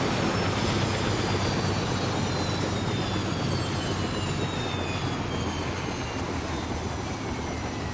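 A helicopter engine spooling down in ARMA 3 fills the clip with a dense, continuous rotor-and-turbine roar, a high whine slowly sliding lower in pitch as it winds down.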